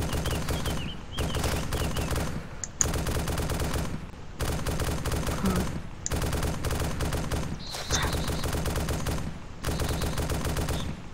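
Bursts of automatic gunfire from Arma 2 soldiers engaging a machine gunner, loud rapid rattling volleys separated by brief pauses, repeating about six times, with no speech.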